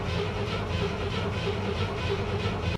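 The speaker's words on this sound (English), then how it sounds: "I'm gonna just crank it and hopefully it'll start" A Chevrolet Corvair engine cranking over steadily without catching, a continuous rhythmic churning drone that holds at a constant loud level with no voices.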